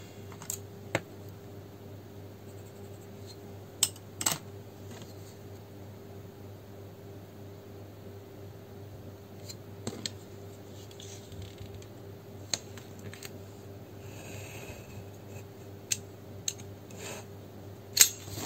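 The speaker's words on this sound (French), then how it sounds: "Donc je découpe là où j'ai mis les traits." Scissors cut paper along drawn lines, giving faint, sparse snips and clicks spaced a few seconds apart over a quiet, steady room hum.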